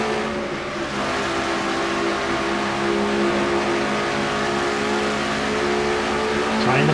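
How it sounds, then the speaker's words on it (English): Stock car engine heard from an on-board camera in car 21 at Dover Downs International Speedway, a loud, steady high-revving roar that holds throughout with a slight rise near the end. "On board with Quentin Moore in car 21."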